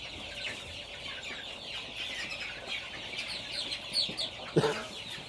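Chickens on a farm cluck and squawk steadily in a dense flock while being moved to a mobile coop, with a sharper squawk near the end.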